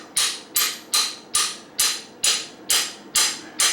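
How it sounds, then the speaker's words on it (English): A hammer taps a new hot tub pump bearing onto its cleaned shaft: nine sharp, evenly spaced metallic knocks, each ringing briefly before the next, close and clear with no talk. "just tap it, just use the weight of the hammer"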